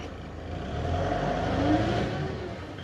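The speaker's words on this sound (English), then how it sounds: "so I'm gonna go forward, but this time I'm gonna go with a little bit more speed" A 5,000 lb LG CLG2025H diesel pneumatic-tire forklift drives forward with more speed, its mid-pitched engine drone rising and holding steady close by, then easing off slightly, with no talking.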